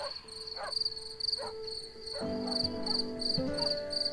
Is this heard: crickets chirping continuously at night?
yes